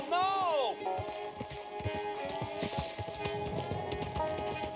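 Hoofbeats clip-clop in a quick rhythm as a horse runs off in the video game Red Dead Redemption 2, after a short rising whinny at the start, with a voice calling over it.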